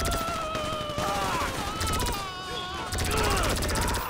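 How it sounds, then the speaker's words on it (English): Video game gunfire crackles in rapid bursts and rattling volleys, loud and continuous, with a voice talking over part of it. "I shoot this guy with one bullet"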